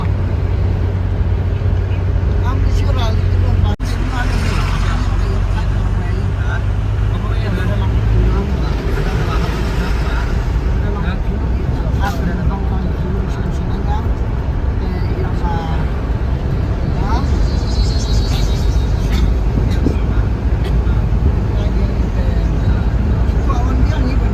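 A shared Tata Sumo taxi on the road to Shillong in Meghalaya gives a continuous low engine drone and road rumble from inside the cabin, with people talking over it throughout.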